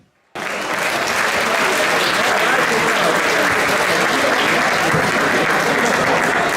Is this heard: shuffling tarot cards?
no